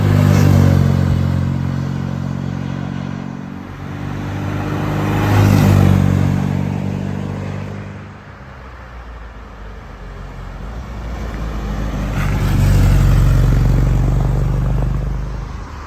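A 1967 MGB roadster makes repeated flybys, its engine swelling as it approaches, fading as it recedes, then swelling again with a deep, steady exhaust note on the open road.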